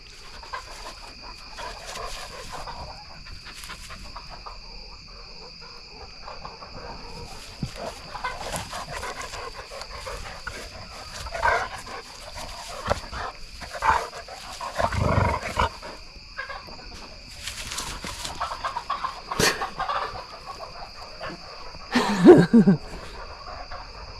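Dogs play-fight at night, biting at each other's ears, with scattered growls, snarls and panting in short bursts that rise and fall, fairly close, over a steady insect hum, with a voice cheering them on now and then.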